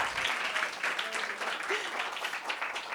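Applause from a church congregation fills the space steadily throughout, a dense wash of many clapping hands under faint voices.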